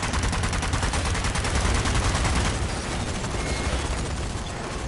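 Enemy machine gun fire in the zombie shooter Zombie Army 4 on PS5: dense, rapid, continuous bursts of loud gunfire, sustained throughout with only a slight easing toward the end.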